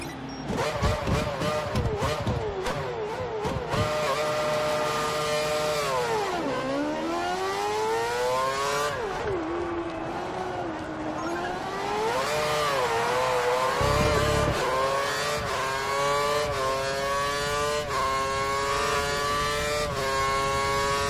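Formula One car in the racing game F1 2013 accelerates hard toward a hairpin, engine whine rising and falling through gear shifts over a long run, loud and continuous, with a voice speaking over it.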